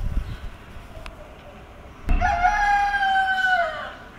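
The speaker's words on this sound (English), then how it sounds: "I have not heard him crowing at all." A rooster crows once in the morning, one loud, drawn-out cock-a-doodle-doo starting about halfway through and ringing clearly over a quiet background, with a faint thump just before it.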